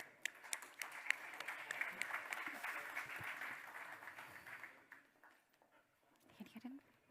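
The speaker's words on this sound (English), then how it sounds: "Let's give them a round of applause." Audience applause for a conference panel at the Monaco Ocean Week innovation platform: a dense, steady patter of clapping hands fills the room for several seconds, then thins out and stops, leaving quiet room noise with brief murmurs.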